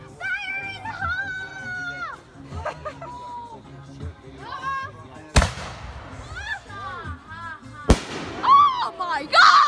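Fireworks set off by a group of people go wrong, with two sharp, loud bangs a few seconds apart amid excited shouting and chatter.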